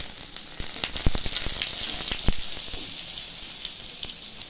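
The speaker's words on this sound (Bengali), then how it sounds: "এবার রসুনটা ভেজে নেব।" Garlic fries in oil tempered with black cumin seeds, producing a bright, close sizzle with sharp pops and crackles, strongest in the first half, with no speech.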